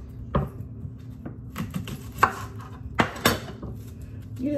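An onion being chopped on a board for meatloaf, a handful of separate knife thuds at irregular intervals, close and fairly loud, with no talking over them.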